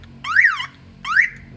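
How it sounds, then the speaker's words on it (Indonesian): A car alarm on a former taxi, fitted with a remote-controlled siren, gives two loud rising-and-falling electronic whoops with a brief gap between them. The siren sounds close, over a faint low hum. "Ini suara alarm"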